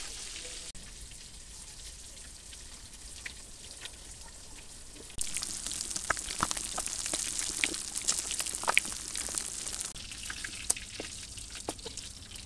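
Steady crackling sizzle of katla fish pieces frying in oil until crisp, growing louder and busier partway through with sharp pops and spatters, no voices.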